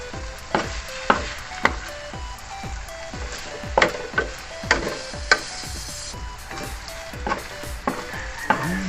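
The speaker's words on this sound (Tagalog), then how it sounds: "Haluin lang natin" Pork sisig with mayonnaise and egg sizzles in a pan while a utensil scrapes and taps against it in a regular rhythm. The sounds are close and clear, with no speech.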